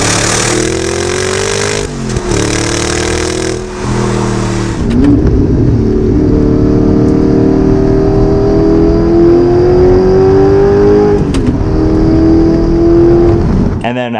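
An Audi R8's engine revs loudly through its Fi active exhaust, rising and falling in pitch several times, then settles into a long steady drone that slowly climbs.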